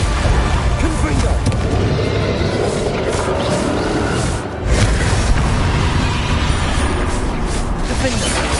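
Confringo blasting spells in the Hogwarts Legacy video game set off a dense, loud barrage of booming explosions and rumbling impacts, nearly continuous with one brief dip, while a voice speaks over the action.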